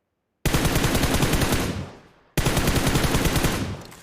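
Automatic gunfire in a ranked match of a video game shooter: two long, loud bursts of rapid rattling shots, the first trailing off into a fading echo before the second burst begins.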